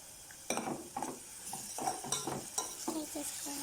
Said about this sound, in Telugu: అలా ఫ్రై అయిన తర్వాత మనం ఇప్పుడు టమాటా ప్యూరీని యాడ్ చేసుకొని